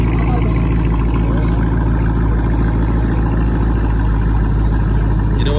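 A 5.7 Hemi V8 with straight-pipe exhaust and active exhaust idles nearby. It gives a steady, loud, low rumble with a regular pulsing throb, with no talking over it.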